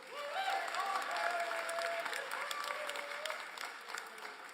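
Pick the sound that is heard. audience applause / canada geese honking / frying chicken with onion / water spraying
audience applause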